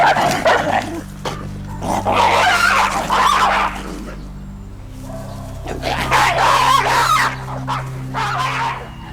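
New Guinea singing dogs give loud, drawn-out howling yelps in repeated bursts separated by brief pauses, close and clear against a low background hum.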